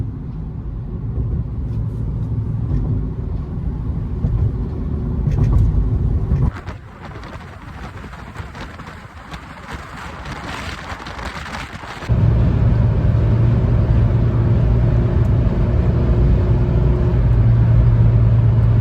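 Toyota Corolla Spacio cruising on a highway, a steady low engine and road rumble inside the cabin that drops briefly mid-way before returning at full strength.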